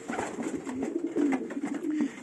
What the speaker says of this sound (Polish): Także tu mamy gołąbki